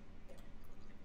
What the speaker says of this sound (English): now I'm going to pour a bit of Fiji.